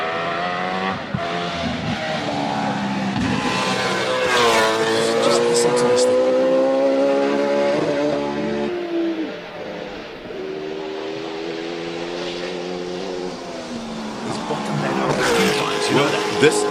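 Robbie Welk's race car at the Simola Hillclimb howling loud and close, revs rising and falling through gear changes with a brief dip mid-run, a voice speaking briefly over the engine.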